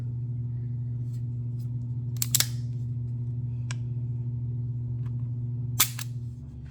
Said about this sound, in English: We'll see how consistent I can get these trigger pulls.